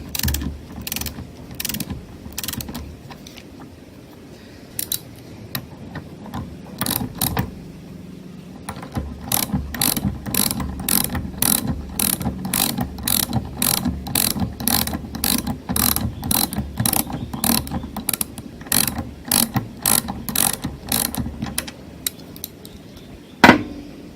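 Ratchet wrench tightening 6mm bolts on a Honda CB550 motorcycle engine during a bottom end rebuild, with a long run of rapid, evenly spaced clicks, close and clear, alone without talk.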